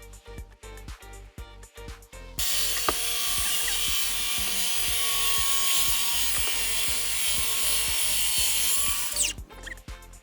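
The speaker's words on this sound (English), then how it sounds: "Then clamp a straight edge guide and cut." A power saw cuts lumber along a clamped straight-edge guide for a dock bench, a loud steady whine lasting several seconds, framed before and after by rapid ratcheting clicks of clamping, with no talk.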